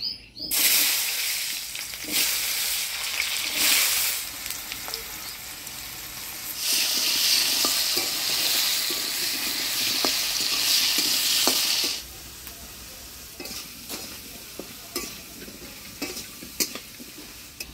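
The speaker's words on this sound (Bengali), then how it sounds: "এবার ঘুগনি রান্না করার জন্য আমি আলুটা হলুদ লবণ দিয়ে ভাজি নেব।" Potatoes frying with turmeric and salt for village-style ghugni give a loud, steady sizzle with stirring scrapes, easing to a quieter crackle near the end.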